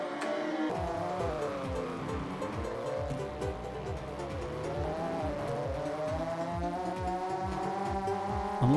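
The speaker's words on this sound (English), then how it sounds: "It's a bit hard to hear with all the unconvincing engine noises blaring through the speakers" Constant droning engine whine from a 1990s racing video game played on a 386 PC, with repeated rising pitch sweeps as the car shifts gears and a squealing tire skid, loud and steady throughout with no talking.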